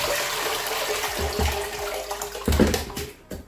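Nigerian stone rice swished and shaken around in a bowl of water, giving a close, continuous sloshing and rattling wash with a few louder splashes toward the end, no talking.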